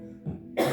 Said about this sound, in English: And now cough.